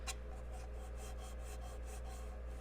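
Lathe tool cutting a maple crotch bowl, giving a steady raspy scraping with soft rhythmic pulses of wood being shaved close up, alone.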